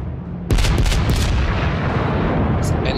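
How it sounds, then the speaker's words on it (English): Secondary battery guns of the Amagi battleship in World of Warships fire in a rapid burst of loud booms that give way to a long rumbling roar, with faint voices briefly underneath. "I'm gonna target him with my secondary batteries"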